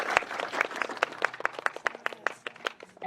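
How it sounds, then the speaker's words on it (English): An audience at an Aboriginal festival in Australia claps for a performer, giving sharp, distinct handclaps in an uneven rhythm, close and fairly loud, with a low hum running underneath. "Yes, give him my clap, thank you."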